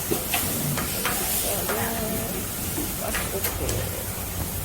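Shrimp sizzling in a pan over a gas stove at a Thai cooking class in Silom, Bangkok, a steady crackling hiss with scraping and stirring, close up, with background chatter.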